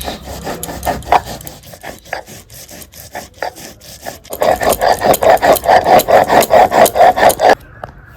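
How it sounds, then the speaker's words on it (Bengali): Poppy seeds ground into a paste on a stone, a rough rhythmic scraping that starts in short strokes and builds into fast, loud, steady back-and-forth grinding before stopping abruptly. "তা আমি পোস্তটা বেটে নিই,"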